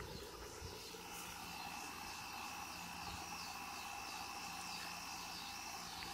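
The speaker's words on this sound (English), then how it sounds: "it looks like someone's flying their drone across the pool" A drone flies across an outdoor pool with a faint, steady, distant whirring hum that holds without a break.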